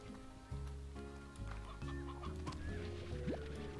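A chicken clucks repeatedly in a video game, soft scattered clucks over a steady bed of synth game music.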